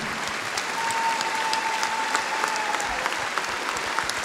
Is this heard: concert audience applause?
yes